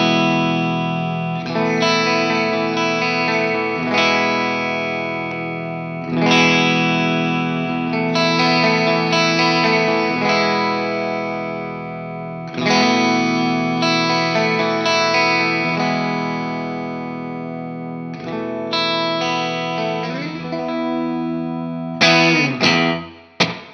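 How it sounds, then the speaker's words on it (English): Electric guitar through a Strymon Cloudburst ambient reverb pedal, strummed chords ringing out in long washy sustained swells, each phrase blooming and decaying in a dense cloud of reverb, played alone without talk. "Now, it's billed as an ambient reverb, and it does that exceptionally well."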